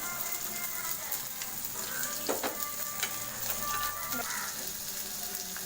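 Shallots sizzling and frying in hot oil for a Tamil-style egg curry, a steady close crackle with brief stirring scrapes partway through and no talking.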